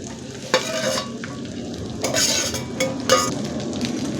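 Half a kilo of chopped okra is stirred in a frying pan with chillies, a steady sizzle broken by several scraping spatula strokes and light clinks against the pan.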